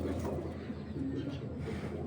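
A pair of Bezi breed pigeons coo softly and repeatedly in a close, low murmuring rhythm, the throaty calls overlapping with little background noise.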